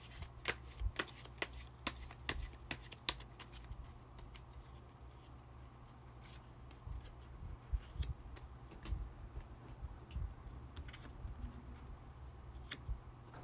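Tarot cards are shuffled by hand in a quiet room, giving soft, repeated riffling and patting bursts that stay close and gentle. Faint low hum sits underneath.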